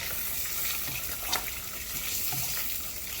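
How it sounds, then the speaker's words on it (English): Fries sizzling in hot oil on a stovetop while making cheese fries, a steady hissing crackle that fills the scene with small bubbling pops, close and even throughout. "So now the fries are cooking."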